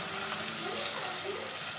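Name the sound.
tomatoes and chillies sautéing in a pan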